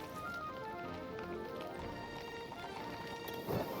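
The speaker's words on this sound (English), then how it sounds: "The use of the snare drum here in particular as kind of a horse trotting sound effect is really, really effective." Snare drum used as a horse-trotting effect in Hytale game music, steady clip-clop rhythm running throughout over layered tones, moderately loud and alone.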